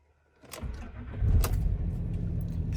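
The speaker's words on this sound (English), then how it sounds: "Start the car." A Land Rover Discovery 3 cranks and fires up close, a short starter whirr catching into a steady low idle that runs on to the end.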